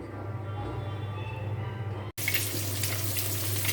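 Dishes are washed under a running kitchen tap, the water splashing steadily and close up; the flow briefly cuts off near the middle, then resumes brighter and louder.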